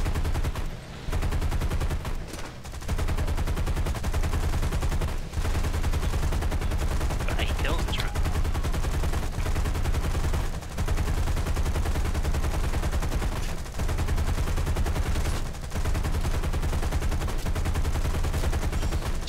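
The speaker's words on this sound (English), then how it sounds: "Chaz and Dave just shot down a H6K." Aircraft machine guns fire in War Thunder during a bomber battle, with long, dense, loud bursts that continue almost without a break and a few short pauses between them.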